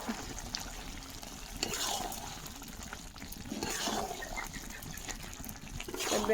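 Water is poured into a pot of mutton curry being cooked at home, a steady broadband rush of liquid lasting several seconds, continuous and fairly close, with no talk over it.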